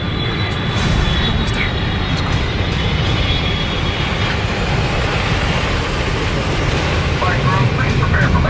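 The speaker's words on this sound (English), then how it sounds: "Flight 381, request permission for landing." A commercial airliner drones steadily as it comes in to land, a loud continuous engine roar filling the cabin for the whole stretch.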